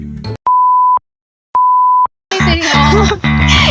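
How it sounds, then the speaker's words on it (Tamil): Two identical censor beeps, each a steady pure tone lasting about half a second and separated by a short silence, sound loud and clean before loud voices break in. "நீ பேசுறது எல்லாத்தையும் நான் பீப் போட்டுருவேன்் சத்யா"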